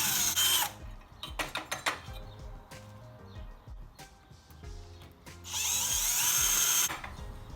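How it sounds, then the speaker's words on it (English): A power drill bores holes in a metal bicycle bag bracket, with whirring bursts, clinks of metal and tools handled between runs, close by, ending in a longer sustained drilling pass. "drill some new holes to mount it to the frame"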